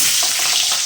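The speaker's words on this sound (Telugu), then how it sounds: "ఆనియన్ ఆనియన్ బాగా ఫ్రై ఉండాలి." Onions fry in a hot pan in a kitchen, giving a brief, close, loud crackling sizzle with no voices.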